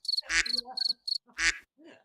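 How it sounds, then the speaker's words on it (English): Crickets chirp in short, shrill pulsed bursts, close and fairly loud, with a few other soft broadband noises between them and no speech. "we are still with the crickets"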